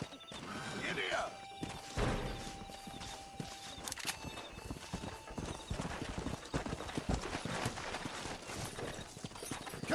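Galloping horse hooves in the Red Dead Redemption video game, a steady rapid clip-clop under game music and ambience, with a brief whinny early on and a voice calling out.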